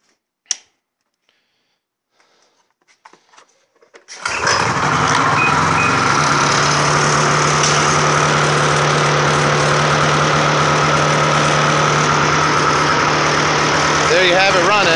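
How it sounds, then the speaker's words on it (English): A 2008 Ski-Doo snowmobile engine with a misfire starts after a few seconds of quiet handling noises and then runs loud and steady, a close buzzing idle with a slightly uneven note. "It's been running strong, but it picked up this little miss, and you're about to hear it."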